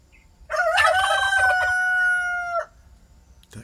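A rooster crows once, a loud, close, drawn-out cock-a-doodle-doo lasting about two seconds over quiet background, followed by silence.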